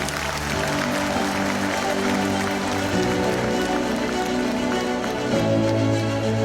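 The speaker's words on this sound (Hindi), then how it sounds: "एक बार जोरदार तालियां सभी लोग देंगे" Crowd applause at an International Yoga Day 2025 celebration, welcoming BMC Commissioner Bhushan Gagrani. The clapping is dense and steady for the whole stretch, with tonal music running beneath it.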